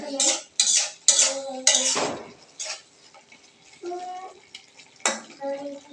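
A spatula scraping and clattering in a pan while a potato and bean fry is stirred, giving a run of close, sharp metallic strokes in quick bursts with brief pauses between them.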